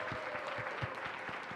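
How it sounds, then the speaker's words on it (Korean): Steady applause from a crowd gathered at a student ministry commissioning event, brisk clapping throughout, moderately loud and uninterrupted. "박수로 환영하겠습니다"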